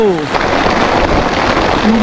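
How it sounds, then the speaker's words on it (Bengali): Heavy rain pours down on a small fishing boat on a river in a storm, with strong wind and rough waves. A loud, steady wash of noise covers everything, and a voice briefly rises over it. "নদীতে ধারে বৃষ্টি আমরা তো ভয়ে ঠিক করে বসে আছি আর প্রচুর হাওয়া হচ্ছে"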